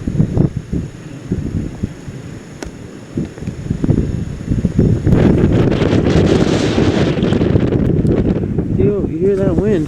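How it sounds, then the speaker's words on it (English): Wind gusting across a snowy trail on a winter camping trek, a steady broadband roar that swells louder partway through, with brief voices talking over it. "You hear that wind?"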